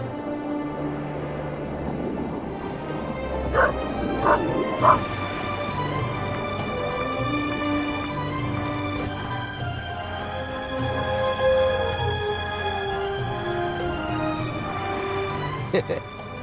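A dog barks and whimpers in the video game The Raven, short yips and whines over continuous game music, with someone talking throughout.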